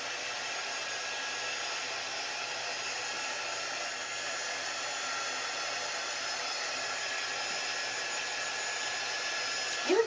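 A hair dryer blows steadily to dry paint on a handmade national park sign, a constant close whirring hum that runs unbroken before cutting off at the end.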